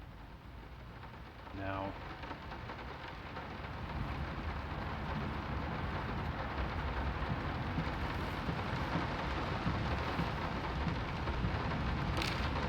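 Steady rain and rumbling thunder in the Layers of Fear video game swell and grow louder. A few brief spoken words come early on.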